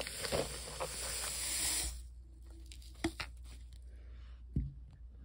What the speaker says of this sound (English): And then we're gonna spray a little more on top.